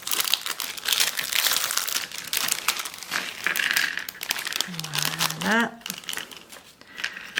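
A filled sachet of scrapbooking pieces such as cut-outs and embellishments is torn open and rummaged, giving steady plastic crinkling and crumpling close by, with a person speaking over it.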